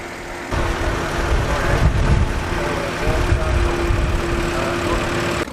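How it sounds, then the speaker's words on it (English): A 1937–1940 McCormick WK40 vintage tractor with a six-cylinder kerosene engine running at a show, a steady low rumbling idle with a constant hum, fairly close and loud, with faint background crowd noise. "WK40, produced between 1937 and 1940, with a 6-cylinder kerosene engine."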